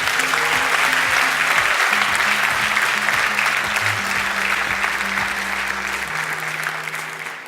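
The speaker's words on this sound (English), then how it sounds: "A round of applause for all the graduates from the ITA track" Steady, dense applause from the audience at a graduation ceremony for the graduates, loud and continuous throughout, easing slightly toward the end, with low background music beneath.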